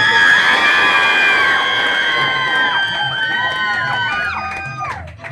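A large crowd at an office achievement celebration cheers and whoops loudly, with many overlapping high voices and rising shouts that gradually fade toward the end.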